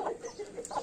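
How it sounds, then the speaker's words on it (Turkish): A Çapar breed hen, sister of a Çapar rooster, gives a few soft clucks, close and fairly quiet, with no talk over them. "Bu da yine çapar horozumuzun bacısı."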